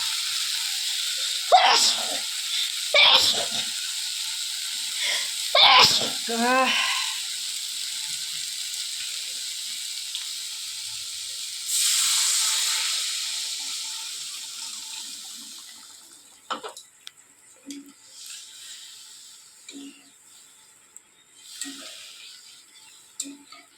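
Water poured into a hot pan for a rohu fish curry hisses in several sharp bursts, then settles into a softer sustained sizzle that fades and turns into faint scattered bubbling and clinks.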